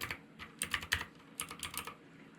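Short bursts of quick, close key clicks as the ipconfig command is typed on a computer keyboard, with a brief pause between two clusters of keystrokes and no voice.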